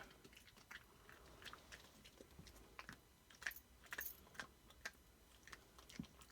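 Quiet, close-up wet chewing and crunching from a dog working on a treat, with irregular clicks and smacks and no voices.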